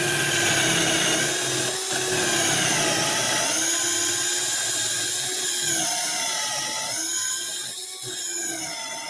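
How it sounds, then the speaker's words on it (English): A handheld drill boring a dowel hole in wood with a Kreg jig and stop collar, a steady high-pitched whine running for several seconds, close and loud, with a brief dip in pitch near the end. "line this up, flush at the end, and drill my hole"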